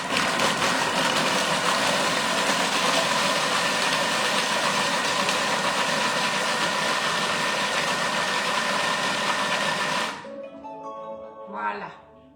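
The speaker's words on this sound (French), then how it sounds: "on va mixer 10 secondes vitesse 5" A Thermomix food processor blends a salmon and spinach terrine mixture at speed 5, a steady loud whirring drone for about ten seconds that cuts off abruptly, followed by faint clatter.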